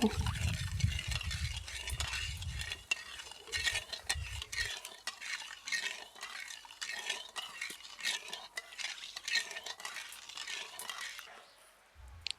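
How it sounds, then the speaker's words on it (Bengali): Spoon stirring sugar, water and four cracked cardamom pods in a pot to melt the sugar, a busy scraping and clinking texture throughout, heavier and fuller at first, then lighter and thinner. "নাড়াচাড়া করে চিনিটাকে শুধু গলিয়ে নেব।"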